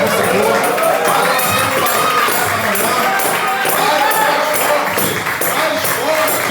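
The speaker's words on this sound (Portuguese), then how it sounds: "vai dando uma salva de palmas para o Senhor" A church congregation claps and cheers in praise, a dense, loud wash of hands and voices filling the room continuously, with crowd shouting mixed through the applause.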